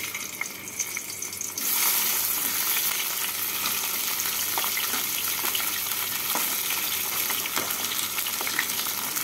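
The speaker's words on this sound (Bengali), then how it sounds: "এবার এই তেলের মধ্যে মাথাগুলোকে ভেজে তুলে নেব।" Fish heads frying in hot oil for a head and potato curry, a steady close sizzle and crackle that swells after the first second and keeps going with small spatters throughout.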